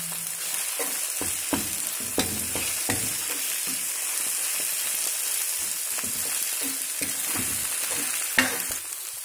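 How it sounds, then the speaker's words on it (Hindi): Bathua and green onion vegetables sizzle in a pan as turmeric powder is stirred in, with a constant hiss and repeated scraping strokes of a spoon, and no one speaking. "ये देखिए हल्दी पाउडर डाल दिया है, और इसको जो है बिल्कुल अच्छे से मिक्स कर देंगे।"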